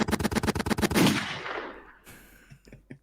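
Rapid automatic gunfire, about ten sharp shots in a quick burst, is followed by a long echoing decay and a few scattered clicks; no speech.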